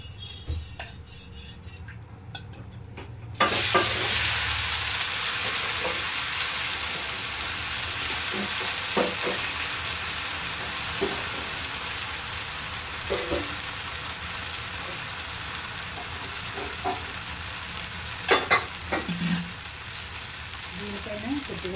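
Rava dosa batter sizzles loudly on a hot, oiled pan, a steady crackling hiss that jumps up in level after a few quieter seconds and holds throughout, with scattered faint clinks and scrapes.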